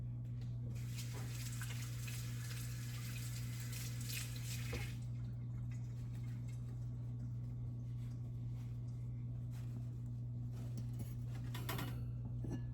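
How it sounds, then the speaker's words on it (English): Tap water runs and splashes as hands are rinsed, with a loud burst early on, then a quieter trickle over a steady low hum. "I'm gonna rinse my hands, banana sticky"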